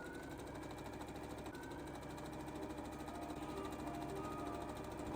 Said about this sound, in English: Then I sew the 2 back pieces together down the centre.